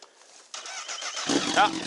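A motorcycle engine starts during a roadside stop: a quiet click, then a rising mechanical crank and a revving engine, with someone speaking over it nearby.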